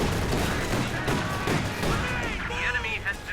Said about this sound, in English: One of our fighting positions is sustaining fire.